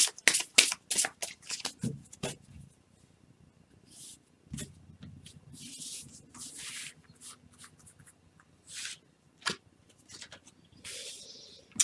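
Tarot cards being shuffled, with quick riffling flurries at the start followed by softer sliding and shuffling sounds and a few sharp taps, close and fairly quiet.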